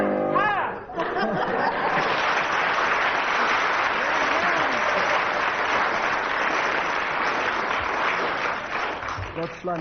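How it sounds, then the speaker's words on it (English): A studio audience at a radio comedy panel show applauds after a comic patriotic song, a full, dense round of clapping mixed with laughter and chatter that swells quickly and holds steady before tapering slightly. "Judging from the audience applause there, Tim gets 9 out of 10"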